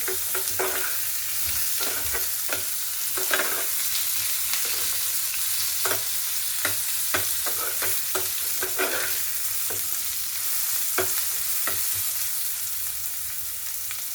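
Onion softening as it fries in a pan, an even close sizzle punctuated by regular scraping and tapping of a spoon stirring, with no speech.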